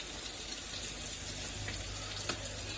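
Sardines being dropped one by one into a pan for a spicy Kerala-style curry give a steady wet sizzle and bubbling, close and fairly even, with no one speaking.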